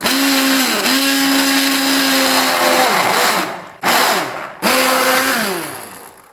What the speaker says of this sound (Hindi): अब इन सबको ग्राइंड कर लेंगे।